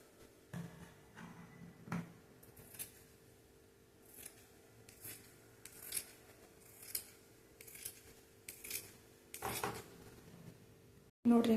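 Scissors cutting plain blouse fabric in a tailoring class: a steady series of crisp snipping strokes, about a dozen spaced cuts, close and fairly faint, with some light handling noise between them.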